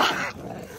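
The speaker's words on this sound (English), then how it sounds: "So he's barking at a bird." A pug dog barks at a bird, giving one short, close, gruff bark that fades away quickly.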